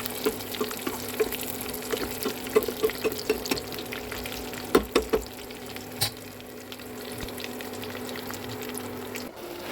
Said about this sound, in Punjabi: ਇਹਦੇ ਵਿੱਚ ਆਪਾਂ ਡਰਾਈ ਫਰੂਟ ਜਿਹੜੇ ਆਪਣੇ ਬਦਾਮ ਤੇ ਕਿਸ਼ਮਿਸ਼ ਨੂੰ ਫਰਾਈ ਕਰਾਂਗੇ